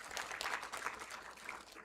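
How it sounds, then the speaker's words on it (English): Audience applause at a stakeholders' engagement breakfast for the panelists: steady, diffuse clapping from a crowd, moderately faint and continuous without talk. "Another round of applause for our panelists."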